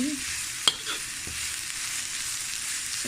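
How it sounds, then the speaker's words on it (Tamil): Garlic, ginger, carrot, beans and green chili frying in ghee for vegetable prawn fried rice, a soft steady sizzle with a single sharp utensil clack and a few light stirring scrapes. "உள்ளி, இஞ்சி, கேரட், பீன்ஸ், பச்சை மிளகாய் இதெல்லாம் இதுக்குள்ள இப்படியே வதங்குது"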